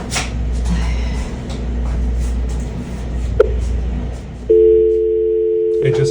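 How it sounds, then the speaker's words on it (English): A hotel room telephone handset hums with background noise and a faint click, then a steady continuous dial tone starts and holds alone near the end. "It just returns back to the dial tone."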